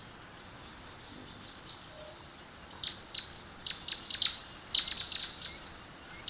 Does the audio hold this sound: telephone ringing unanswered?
no